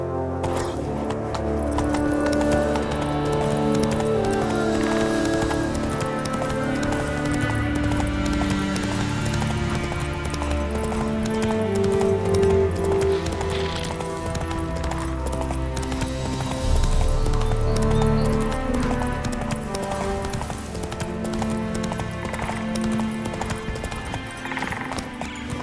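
Roach, Geralt's horse in The Witcher 3 video game, clip-clops at a steady galloping rhythm beneath a dense orchestral game score, hoofbeats blending with music and ambient sound throughout.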